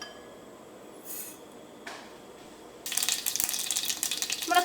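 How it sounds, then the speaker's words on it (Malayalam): Mustard seeds pop in hot coconut oil in a pan. After a quiet start, a dense, loud burst of crackling and spattering builds in the second half, close up and with no talk over it. "നമ്മുടെ കടുക് നന്നായിട്ട് പൊട്ടിയിട്ടുണ്ട്."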